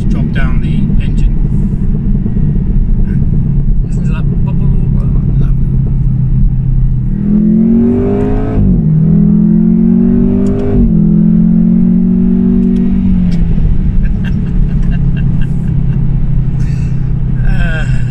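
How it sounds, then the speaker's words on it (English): A Jaguar F-Type P300 engine revs while driving, a loud rising and falling drone swelling for several seconds in the middle over steady road rumble, with people talking throughout. "There is a little bit of road noise, but again, it's really overshadowed when you start to drop down the engine."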